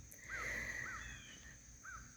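Crow-like caws ring out several times outdoors, fairly loud against a steady background hiss and faint low rumble, with a few brief separate calls spread across the moment.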